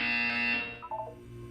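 A buzzer sounds in the video game Portal 2, one loud sustained electronic tone that cuts off after about half a second and leaves a brief fading tail.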